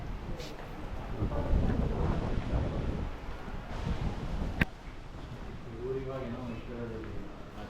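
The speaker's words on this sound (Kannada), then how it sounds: "ಇಲ್ಲೇ ಗಂಗೆ ಹರಿಯುವ ಸದ್ದು." The Ganges flows past a ruined ashram near Rishikesh as a broad, steady outdoor rush, heavily buffeted by wind on the microphone, with a faint voice briefly audible near the end.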